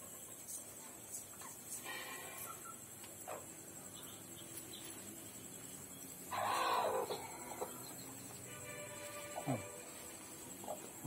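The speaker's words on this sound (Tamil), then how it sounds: "கோழி உக்காந்துச்சு" A hen settling onto a clutch of eggs in a home brooding nest gives soft, low clucks with a brief rustling burst midway, faint and close against a quiet outdoor background with scattered bird calls.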